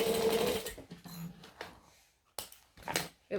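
Home sewing machine stitching fabric in short bursts: a brief run at the start, then scattered clicks and taps with quiet gaps between, close and fairly soft.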